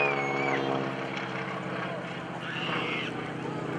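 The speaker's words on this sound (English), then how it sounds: "Here comes Kevin Russo with the SNJ, which is the Navy version of the AT-6." An SNJ, the Navy version of the AT-6 trainer, flies at the 2013 Greenwood Lake airshow. Its steady propeller-engine drone holds loud and continuous under a commentator's voice throughout.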